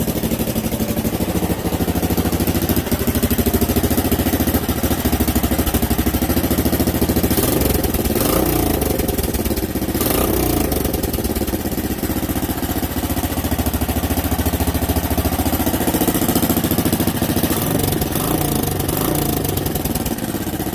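A 1982 Honda Big Red three-wheeler with a small exhaust leak idles and warms up, a close, loud, steady engine drone running the whole length with slight wavering in pitch.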